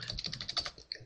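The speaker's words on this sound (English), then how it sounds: "We'll put in our password, so this can be anything." Quick run of keystrokes on a computer keyboard as a password is entered, close and crisp, about a dozen taps in a fast irregular rhythm over one second with no talking.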